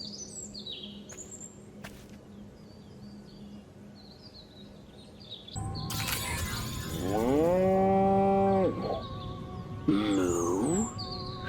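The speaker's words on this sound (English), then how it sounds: "Again with the moo?" Cow mooing in Destroy All Humans!, a long drawn-out bovine moo following a stretch of quiet ambience with bird chirps, then a second shorter moo near the end.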